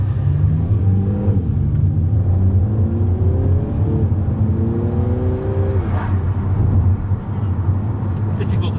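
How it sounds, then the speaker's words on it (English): A cold Mini JCW Clubman engine hums and rumbles from inside the cabin, with rising turbo whines as it accelerates through gears and a steady hiss of intake air. "turbo whine and induction noise."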